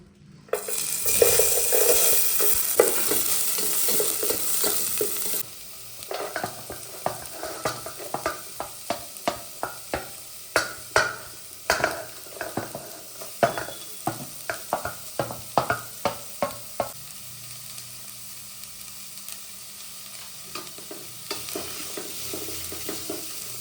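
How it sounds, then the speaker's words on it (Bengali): Onions frying in hot white oil in a pan, a loud steady sizzle with repeated stirring scrapes and clinks of the utensil against the pan, close and continuous with no talking. "সাদা তেল দিয়ে গরম করে কিছুটা পেঁয়াজ দিয়ে দেবো"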